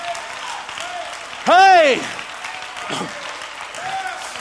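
A church congregation claps in a short, loud burst of applause, with a shout and a preacher's voice over it and talk continuing at a lower level on either side.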